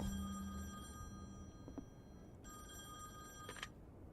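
Telephone ringing in The Wolf Among Us video game, a faint electronic bell trilling in two bursts separated by a short pause, with a low hum and soft clicks in the background.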